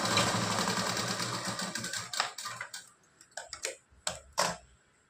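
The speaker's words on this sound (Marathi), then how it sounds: "डबल शिलाई करून घेते मी." A sewing machine double-stitches half-inch tucks on a blouse, giving a fast, steady mechanical whir that stops about halfway, leaving a few quiet clicks and taps.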